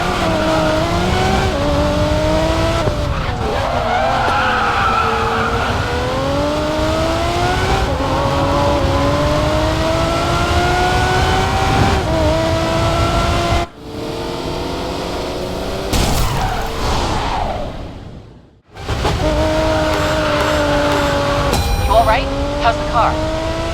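Racing car engines roar continuously in the mobile game Racing Master, loud and close, with rising and falling revs through gear shifts, a brief drop-off near the end, then the engine surging back in.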